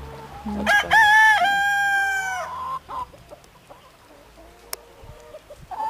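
Rooster crowing loudly and close, one long harmonic crow early on, then scattered clucks and fowl calls from a flock of free-range chickens on a farm in the Prekmurje plain.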